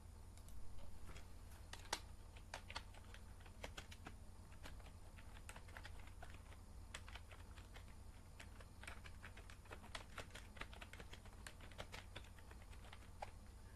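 Quiet, steady typing on a computer keyboard while entering text into an MS Excel spreadsheet, with many light irregular key clicks running continuously throughout and no talk.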